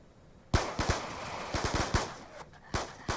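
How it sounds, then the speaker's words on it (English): Gunfire in a video game, a series of sharp close shots in an uneven burst with short gaps, loud and free of talk. "Swiftor Says, fire 5 bullets into the sun"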